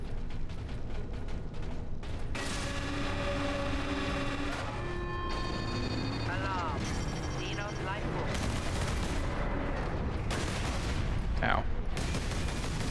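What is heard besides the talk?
Kraken Bolter gunfire in Warhammer 40,000 Space Marine video game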